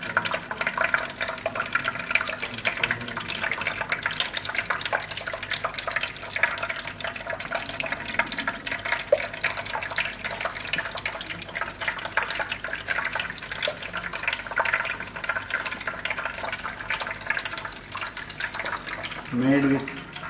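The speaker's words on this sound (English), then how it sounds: "a fountain made by her in the materials white cement and stones, and the system is made to have a waterfall continuously with a small motor" Small motor-driven fountain of white cement and stones, water spilling continuously in a steady trickle and splash close by, with voices speaking faintly in the background.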